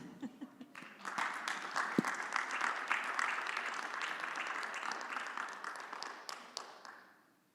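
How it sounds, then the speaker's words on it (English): An audience applauds to welcome a keynote speaker at a conference: a few scattered claps, then a full round of steady clapping that holds and tapers off near the end. "Please welcome him with a resounding round of applause."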